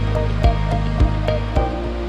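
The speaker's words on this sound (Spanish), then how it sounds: "una de las mejores vistas de la caída de agua" The Velo de Novia waterfall at Tzimol, Chiapas roars as a loud, steady broadband rush of falling water, with a few faint periodic thumps over the dense, unbroken flow.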